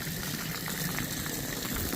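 Water is flushed through a thick area rug to rinse out pet urine, giving a constant dense hissing, bubbling rush of liquid, close and even throughout, with no talking.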